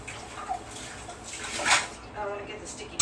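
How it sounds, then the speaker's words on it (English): A measuring cup is rinsed under running water, a brief splashy rush of tap water close by with a short louder burst near the middle, after sticky peach juice. "I gotta rinse this out because I'm gonna have to reuse this measuring cup."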